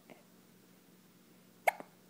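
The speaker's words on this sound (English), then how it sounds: "check out my hiccups" A single sharp hiccup pops out near the end after a quiet stretch, followed by a brief softer catch, close and clear with faint room noise between.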